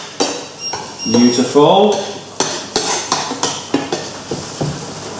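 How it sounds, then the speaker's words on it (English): Tomatoes, olives, capers and anchovies drop into a cooking pan with metallic clanks, stirring scrapes and a string of sharp utensil taps against the pan, while a voice briefly talks over it. "So let's get our tomatoes in. Let's get our olives, capers and anchovies in."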